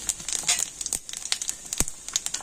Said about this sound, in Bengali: তেল গরম হয়ে গিয়েছে আর এখন আমি তেলের মধ্যে দিয়ে দিচ্ছি গোটা জিরে।